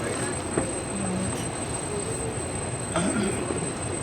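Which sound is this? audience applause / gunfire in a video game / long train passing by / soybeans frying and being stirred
long train passing by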